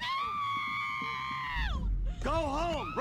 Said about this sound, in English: She's on her hands and knees screaming no.